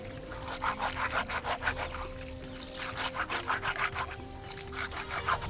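Water poured and splashed while dried fish is scrubbed and rinsed for gongura curry, making uneven sloshing and trickling in quick bursts close by.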